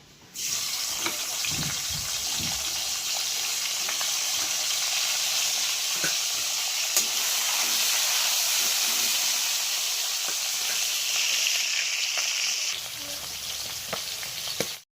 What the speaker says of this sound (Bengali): সবার প্রথমে দেখো আমি শুটকি মাছটাকে একটু ভেজে নেব।